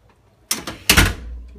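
A door slams shut hard, a loud bang preceded by a lighter latch knock, then a short ringing decay in a quiet indoor space.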